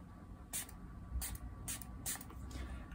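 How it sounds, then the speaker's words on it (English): Several quick bursts of water from a spray bottle, misted horizontally over a wet watercolor cherry blossom painting so the drops fall onto the paper; about four short hissing sprays spaced roughly half a second apart, close and fairly quiet. "Let's just spray."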